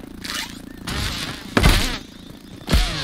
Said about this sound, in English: Mosquito?